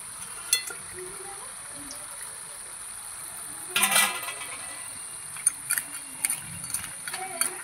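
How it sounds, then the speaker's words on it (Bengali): A katla fish head stirred into bubbling cabbage curry in a pan: a faint, steady sizzle runs throughout, with a brief scraping stir in the middle and a few light clinks. "মাছের মাথাটা দিয়ে ভালো করে আবার নাড়িয়ে নেব"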